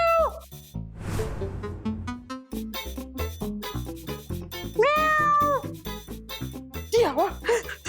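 A cat meows several times in a drama scene, drawn-out plaintive cries rising and falling amid a busy music score and a doorbell-like chime, close and fairly loud.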